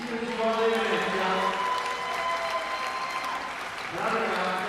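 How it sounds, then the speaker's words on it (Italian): The crowd at an under-18 women's final applauds the second-place girls' team, steady clapping throughout with voices talking and calling over it. "Vi chiedo un grande applauso per le seconde classificate"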